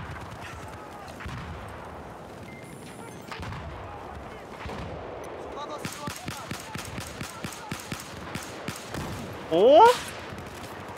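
Battlefield 4 gunfire from a suppressed MK11 rattles out in a quick run of sharp, evenly spaced shots, with a brief shout and some background commotion.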